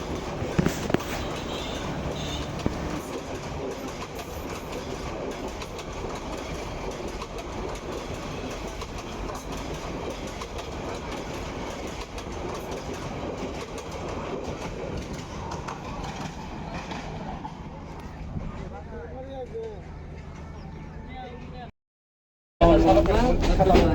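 A passenger train on the Dhaka to Mohanganj route rolls past during a crossing with the Haor Express, a continuous close rumble with clickety-clack of wheels on rail joints that fades after about twenty seconds before a brief cut.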